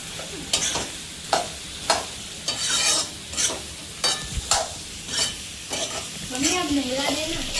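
Vegetables sizzle and fry in a pan while a utensil stirs them, making a string of clear scraping strokes over a steady, fairly close crackle.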